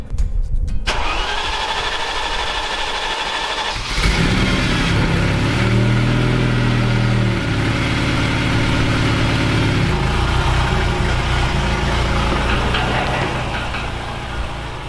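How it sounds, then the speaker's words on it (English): A Ferrari 308 cold starts with a quick starter crank, then the engine catches and revs up loudly before settling into a steady, rumbling idle that holds close and constant to the end. "Cold start, Ferrari 308."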